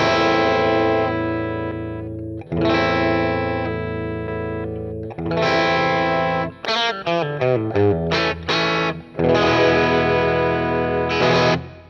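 An electric guitar played through a BOSS Katana Gen 3 amplifier, comparing American and British voicings with distortion and reverb: several long ringing chords, then a quick choppy run of short notes and a final chord, loud and alone.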